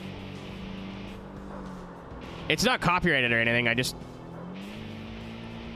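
A race car's engine in the PS2 game Tokyo Xtreme Racer 3 drones as a quiet, muffled, steady hum in the background, while someone talks loudly over it partway through.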